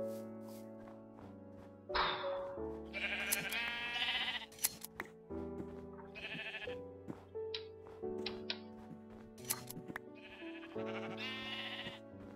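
Sheep bleating in the video game Minecraft: several loud, wavering bleats rise over continuous layered game music, arriving in bursts across the clip.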